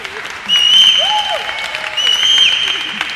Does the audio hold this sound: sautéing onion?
no